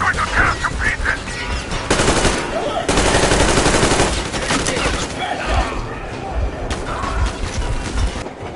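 Heavy gunfire in the shooter game Metro Exodus, rapid automatic bursts and overlapping volleys close and loud, with shouted voices mixed into the barrage.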